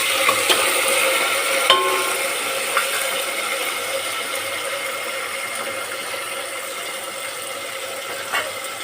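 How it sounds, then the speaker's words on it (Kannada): Green peas fry in a little hot oil with a steady, faint crackle. A few sharp clicks and scrapes stand out, and no one speaks. "ಸ್ವಲ್ಪ ಎಣ್ಣೆ ಚೆನ್ನಾಗಿ ಮೊದಲೇ ಕಾಯಿಸೋಕ್ಕೆ ಈಗ ಬಟಾಣಿ ಹಾಕ್ತಾಯಿದ್ದೀನಿ ನೋಡಿ"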